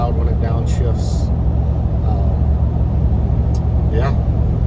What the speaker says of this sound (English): Hopefully my truck's not too loud when it downshifts.